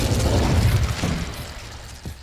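A fire spell is cast in a Hogwarts Legacy duel: a loud, low roaring whoosh of flame bursts up at once and sustains, then fades out over about two seconds, with a small thump near the end.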